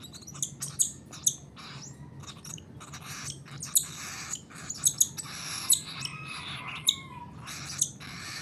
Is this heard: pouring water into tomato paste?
no